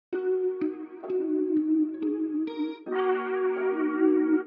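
Arcade sample-based synthesizer preset called Divergence plays evolving loops: a sequence of tonal, effected notes with chorus and echo coloring, shifting pitch every second or so, then swelling into a brighter sustained layer.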